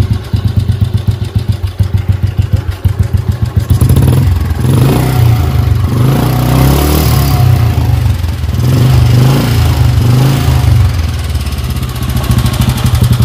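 Royal Enfield Bullet motorcycle fitted with a Four S Champion carburetor runs close by, first idling with a rapid, even thumping beat, then revving louder in rising and falling bursts of loud, rough exhaust.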